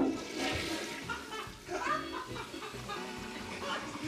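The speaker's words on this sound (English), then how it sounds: "Was that you using your foot to flush?" A toilet flushed with a foot on a film set, a loud rushing and gurgling water flush that continues for several seconds, with faint voices in the background.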